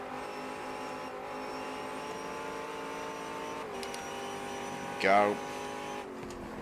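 A race car engine in the GTR2 racing video game holds a steady, loud droning tone from start to finish, shifts pitch near the end, and a short rising whine is heard under the occasional spoken word.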